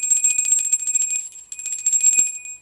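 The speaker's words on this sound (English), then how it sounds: "ringing the bell, bringing in the dragon" A small hand bell rings continuously in bright repeated strikes, pausing briefly midway before ringing on again, close and clear with no talk.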